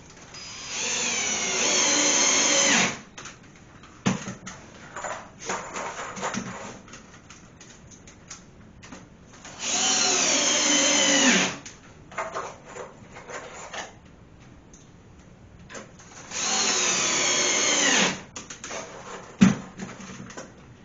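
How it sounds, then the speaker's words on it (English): A power drill drives screws into a toilet flange in three separate loud whirring bursts, each about two seconds long, with quieter handling noises and clunks in the gaps between them. "We're screwing this one down."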